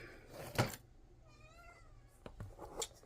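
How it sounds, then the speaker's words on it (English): Indoors during a home Latin lesson, a cat lets out a single clear, drawn-out meow midway, fairly close, set between a few soft thumps and clicks. "Oh, the cat's meowing."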